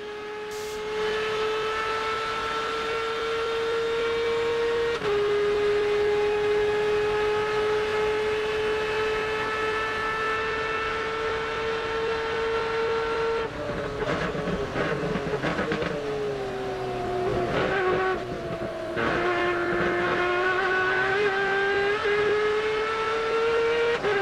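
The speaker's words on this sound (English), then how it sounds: "listen to this screaming Mazda as this one's turning some RPM" A Mazda RX-8 race car engine screams at high revs at the Rolex 24 Daytona race, a sustained whine that holds steady, then drops and climbs again through gear changes.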